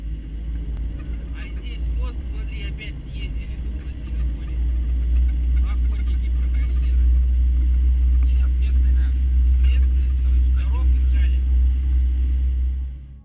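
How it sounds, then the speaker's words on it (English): A car drives along a road late at night, its steady low engine and tyre rumble holding throughout and swelling a little louder partway through, with faint higher noises above. "A quiet car ride, headlights cutting through the darkness"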